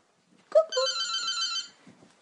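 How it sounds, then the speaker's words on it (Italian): A telephone rings indoors in a home where a newly adopted dog is settling in, a single sustained electronic ring tone with a short click before it, fairly close and clear, then quiet. "Eccola qua, il telefono."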